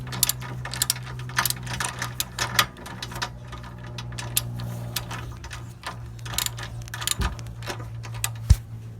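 Ratchet wrench loosening a rear sway bar link bolt on a 2004 Honda Pilot, with rapid clicking in uneven bursts close up, plus a few sharper knocks.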